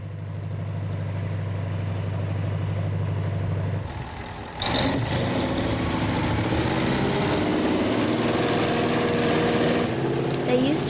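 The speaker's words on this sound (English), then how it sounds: "They use trucks like this to help plants with special sprays." A crop-spraying farm truck engine drones steadily up close with a low, even hum, then shifts into a broader, rougher roar partway through that holds loud to the end.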